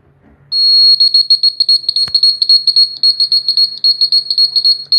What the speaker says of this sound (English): here you see that 324 volt buzzer. It gives a loud sound, that metal striking sound when it was powered